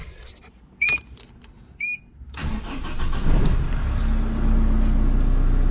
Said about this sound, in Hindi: गाड़ी स्टार्ट करूँगा न्यूट्रल पोजिशन में